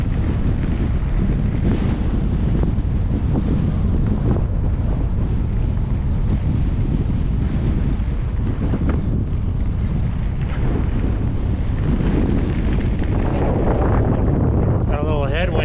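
Strong headwind buffets the microphone during a bicycle ride from Badwater toward White Mountain Peak, a loud continuous low roar with gusty surges throughout and no clear talk.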